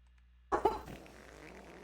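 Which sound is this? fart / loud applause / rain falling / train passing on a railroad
fart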